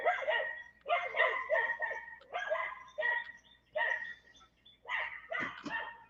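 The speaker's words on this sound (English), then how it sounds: "those are her dogs out there" Several dogs barking outdoors in a backyard, repeated bursts of barks and yips at moderate distance, continuing steadily with short pauses.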